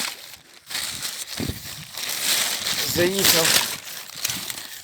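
A plastic bag crinkling and crushing while someone digs through rubbish at a dump, with rustling bursts throughout and someone speaking briefly over it.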